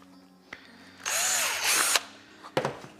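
A power sanding tool smooths the edge of a TIE pilot helmet prop in one bright, whirring burst of about a second, framed by a few sharp clicks and handling knocks.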